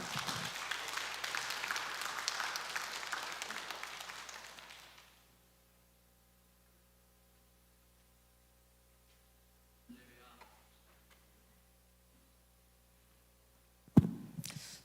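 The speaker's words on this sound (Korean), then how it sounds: "박수로 환영하겠습니다." Applause from a church forum audience welcoming a pastor, a steady broad patter for about five seconds that then cuts off into near silence, with a couple of brief knocks later.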